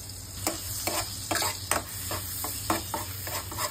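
Finely chopped garlic sautéing in a pan for a cheesy white pasta, a steady sizzle and fry broken by repeated scraping stir strokes, close and fairly quiet with no talking.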